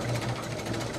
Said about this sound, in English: That's a super low idle now.